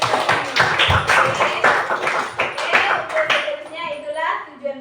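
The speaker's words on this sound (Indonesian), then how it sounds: "Tepuk tangan dulu" A classroom of children claps together in short bursts of rhythmic applause, close and lively, mixed with kids' voices.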